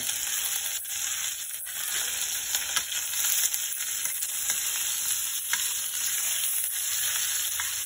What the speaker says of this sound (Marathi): ओके, आता हिरवी मिरची, कढीपत्ता ॲड करूया आणि हिंग.